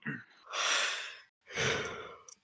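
A person yawns twice in a row: a long, drawn-out breathy exhale, a brief pause, then a second sighing yawn. Both are close and fairly quiet, with no talking.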